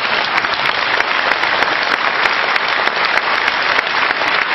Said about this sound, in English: I think we need to give a tremendous round of applause.